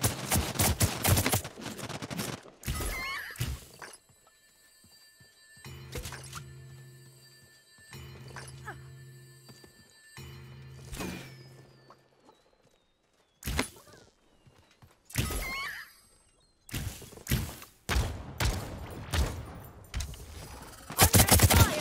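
Gunfire in the battle royale video game Realm Royale, with bursts of rapid shots and sharp impacts in clusters, separated by quieter stretches of in-game ambience and a few tonal effects.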